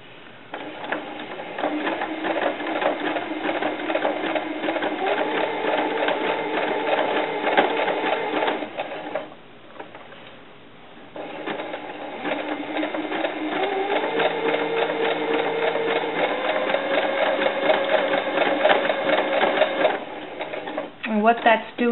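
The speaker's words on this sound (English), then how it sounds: "I'm going to overlock" An overlock machine runs in long, steady bursts while it joins a doll dress skirt to its bodice, whirring loudly for several seconds, pausing briefly, then starting again and running on until it stops.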